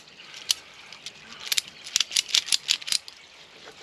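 Ratchet strap being cranked tight over a load, a run of close, sharp mechanical clicks that speeds up into a quick cluster near the end, heard without any talking.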